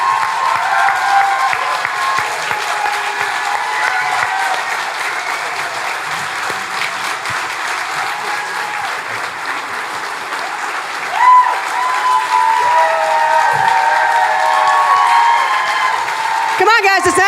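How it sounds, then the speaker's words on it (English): Audience applause from a podcast crowd welcoming a guest on stage, a steady dense wash of clapping that holds for the whole stretch with a brief louder swell near the end. "Hey guys, let's give Michael Fanone a round of applause."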